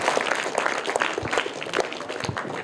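An audience at a children's quiz event claps loudly and steadily for a prize winner, dense continuous applause close by with no talking over it.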